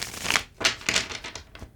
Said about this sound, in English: felt like that was a stiff shuffle